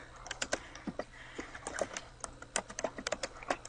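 Fingers tap out a short phrase on a computer keyboard, the keys clicking in quick irregular runs with brief gaps, close and clear with nobody speaking.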